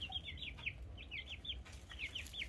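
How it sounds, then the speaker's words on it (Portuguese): Chickens kept penned on a small farm and fed ration give repeated soft clucks and short squawks, moderately close, over a low rumbling background, with no talking. "E lá é as galinhas, que eu mostrei pra vocês."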